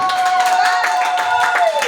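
A church congregation applauds with dense, steady clapping after a preacher's call, while a sustained tone hangs in the background, loud and close throughout.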